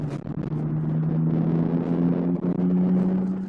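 A BMW E36 with a 2-litre engine and VANOS variable valve timing revs under full throttle, a loud, steady engine drone whose pitch climbs through the run, with a brief dip near the end.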